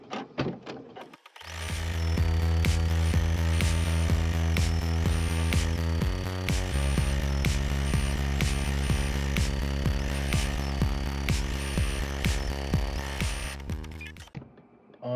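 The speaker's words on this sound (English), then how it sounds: "you can press it and the machine will start the embroidery process" A Brother SE1900 embroidery machine stitches steadily and loudly up close, its rapid needle mechanism producing a continuous rhythmic whir with regular ticking beats, briefly pausing mid-run before resuming, with no talking.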